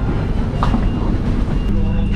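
Steady low rumble and rolling rattle inside the airport rail train heading to KL Sentral in Kuala Lumpur, loud and continuous with faint higher hiss and no voices.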